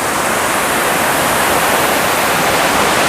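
Steady, loud rushing roar of the fourth waterfall at Curug Paniis in Sumur, Pandeglang, pouring into its pool, continuous and unbroken with no voices.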